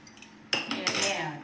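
A cooking pot is set down on a lit gas stove, one sharp metallic clank followed by a second clatter and a brief ringing rattle, close by in a quiet kitchen.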